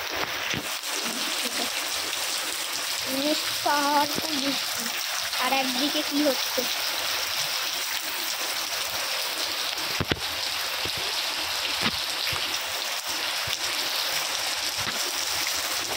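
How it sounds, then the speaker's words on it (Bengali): Steady heavy rain hisses throughout, a dense wash of noise with a few louder spatters, while a voice speaks briefly near the start. "খুবই খুবই পাওয়ারফুল বৃষ্টি হচ্ছে"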